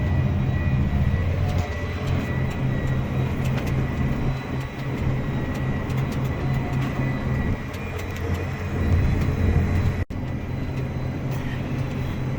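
A tractor pulls a turbo tillage implement across a field, a steady, close, loud engine drone with constant low rumble and brief dips in level, no voices.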